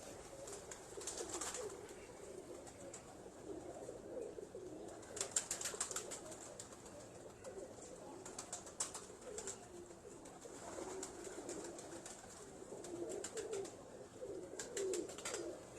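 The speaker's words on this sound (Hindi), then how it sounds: "ये वो जुगनू है ना, जुगनू कबूतर" Jugnu breed pigeons coo in a steady low murmur through a loft, with brief bursts of wing flutter and scuffling standing out several times over the continuous cooing.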